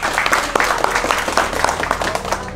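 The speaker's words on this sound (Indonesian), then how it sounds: "Tepuk tangan untuk kita semuanya." An audience at a village enterprise building event in Pemalang breaks into close, loud clapping, a busy continuous patter of many hands with a few sharper claps standing out.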